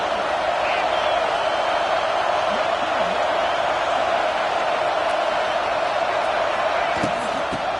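A stadium crowd at an American football game roars steadily as the home defense faces a goal-line stand, a loud, unbroken wash of cheering that fills the whole stretch without pauses.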